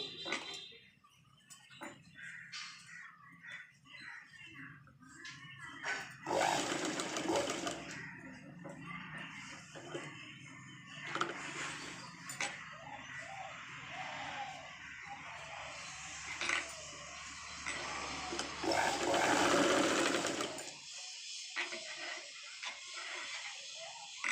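A sewing machine stitches a Punjabi dress top in bursts of whirring and mechanical clatter, with pauses between runs, fairly near but quiet, alongside faint background sounds.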